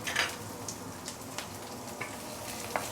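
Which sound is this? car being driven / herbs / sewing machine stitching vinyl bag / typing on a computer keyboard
herbs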